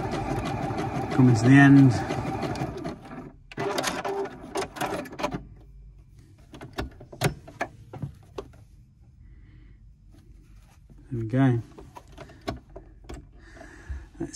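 Juki HZL G220 sewing machine running a decorative 7mm-wide stitch, with a short whirring burst early and another later, between stretches of quiet mechanical clicks, while a person talks over parts of it.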